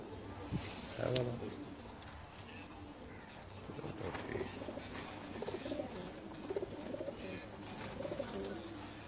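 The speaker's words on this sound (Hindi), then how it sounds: "ये जो पहले आप देख रहे हैं दोनों कबूतर" Racing pigeons back from an overnight competition flight give soft coos and bursts of wing flapping, moderately near, over a low outdoor background with voices talking nearby.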